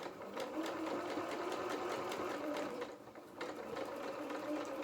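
A sewing machine stitches the shoulder seam of a small doll jacket, its steady, rapid mechanical whir running almost continuously with a brief pause partway through as it reverses.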